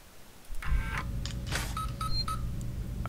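Short electronic telephone dialing tones from the video game Alien Isolation sound in a quick irregular sequence of beeps over a low ambient hum, fairly faint.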